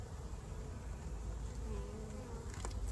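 Honeybees buzz around a newly installed hive, a dense, steady drone of many wings close by, continuous and unbroken throughout.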